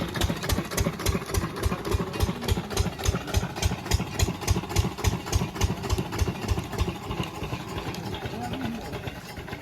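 A diesel tractor engine idles steadily with a fast, even chugging pulse throughout, close and loud, with no voices.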